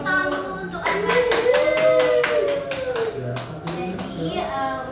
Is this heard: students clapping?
yes